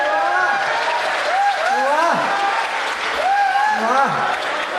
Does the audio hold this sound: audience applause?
yes